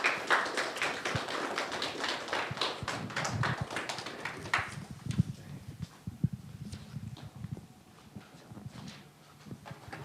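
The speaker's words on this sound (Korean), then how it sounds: "우리 정지호 감독님 나오실 때 박수로 환영해 주시면 감사하겠습니다" Church congregation clapping to welcome a bishop, a loud burst of many hands that tapers into scattered claps, with low shuffling and footsteps underneath.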